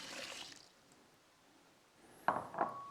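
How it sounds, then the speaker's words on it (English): Water is poured into a rice cooker holding washed sushi rice, a short splashing burst near the end that follows a near-silent pause and a soft rustle at the start. "Now we'll get our water in."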